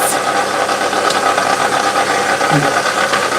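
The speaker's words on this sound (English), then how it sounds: "KitchenAid mixers are rather loud." A loud, steady motorized whir from a KitchenAid stand mixer runs throughout, with a faint rattle and vibration.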